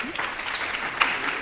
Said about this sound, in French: 15 ans, on peut l'applaudir